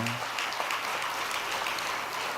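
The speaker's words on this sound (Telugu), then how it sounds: "మెచ్చుకుంటున్నానండి, చప్పట్లు కొట్టండి కాస్త" A church congregation clapping their hands during a sermon: a steady, dense wash of applause that runs through the whole moment without pause.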